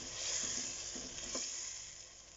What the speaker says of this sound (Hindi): लो फ्लेम करके इस मसाले को हम 10 मिनट तक भूनेंगे।